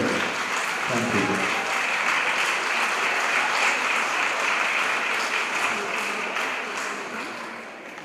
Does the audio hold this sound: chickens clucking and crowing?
no